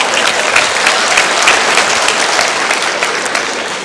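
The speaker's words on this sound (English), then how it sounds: "Give yourselves a round of applause." Audience applause at a motivational speaking event, a dense, steady wash of many hands clapping together, loud and close, lasting throughout without voices.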